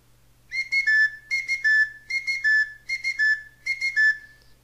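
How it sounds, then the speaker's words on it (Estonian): A classic wooden bird whistle carved from ash wood gives five loud, close warbling trills in a steady rhythm, each ending in a sustained high note, with no other sound around it. "See on klassikaline linnuvile, mida ma teen tavaliselt kõvemalt puuliigist"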